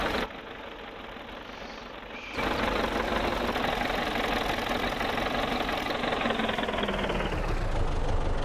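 A green tractor idles in Farming Simulator, a steady, rumbling engine drone that swells louder after a brief quieter start and then holds evenly with a slight knocking texture.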